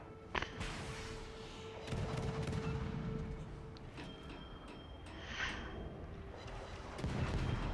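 Naval guns from the French destroyer Kleber boom in the World of Warships video game, a few sharp muffled blasts over a rumbling engine and ocean bed, with intermittent clicks and interface tones.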